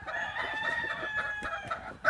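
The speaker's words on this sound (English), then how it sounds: "Very sharp little rooster." A young gamefowl rooster of brown red bloodline crows once in a long drawn-out call close by, with a brief louder noise at the end.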